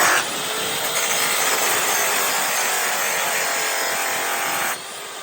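A polishing pad is raked on a spinning polisher set high, a loud, steady abrasive whirring that holds evenly and then drops off sharply near the end.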